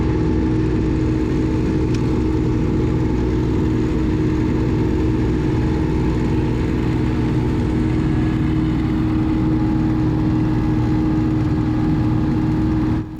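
A Massey Ferguson tractor built by Japanese maker Iseki, its engine working in low range, gives a loud, steady, unbroken drone for the whole stretch with no speech over it.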